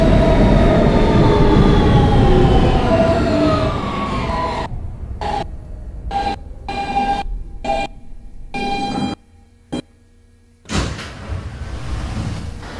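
An R160B Siemens subway car on a W local train in New York rides loudly with rumbling wheels and a whining motor tone that fades, then rapid rhythmic rail clatter and a quieter pause before the rumble resumes.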